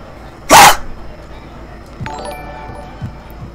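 A person imitates a dog with one loud, sharp bark near the start, followed by quieter background noises and faint clinks during a live stream.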